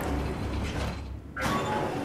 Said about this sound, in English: I'm going to close these doors.